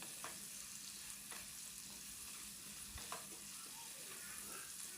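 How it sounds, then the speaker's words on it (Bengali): Potato and raw banana pieces fry gently in a pan, a soft, even sizzle running throughout with a few faint stirring scrapes. "তারপর নেড়ে চেড়ে আলু আর কলা ভেজে নেব হালকা"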